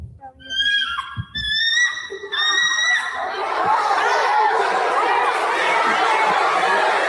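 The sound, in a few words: bald eagle call recording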